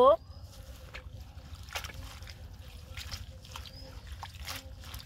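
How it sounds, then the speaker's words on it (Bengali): Bottle gourd leaves and onion leaves washed by hand in a pot of water, soft sloshing and trickling close by with small splashes throughout, after a brief voice at the very start. "লাউ পাতা আর পেঁয়াজ পাতা ভালোভাবে ধুয়ে নিব।"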